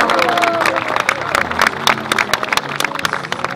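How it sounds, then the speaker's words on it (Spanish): Audience at the Naitun 2022 environmental awards ceremony applauds and cheers, dense clapping with loud bursts and crowd noise throughout, fairly close and energetic, with voices mixed in. "más fuerte el aplauso"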